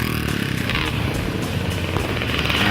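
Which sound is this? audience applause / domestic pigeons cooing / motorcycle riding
motorcycle riding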